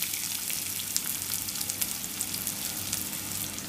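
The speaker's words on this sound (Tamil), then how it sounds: "இதை இப்போ நல்லா வதக்கிக்கலாம்." Small onions sauté in oil in a pan for a yam kuzhambu, a dense, even crackling sizzle with scattered bright pops, close and continuous, with no voices.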